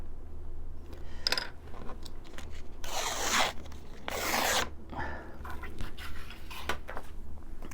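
Paper ripped by hand for a junk journal planner, heard as several short, close tearing bursts, with the loudest long rips near the middle and no talking.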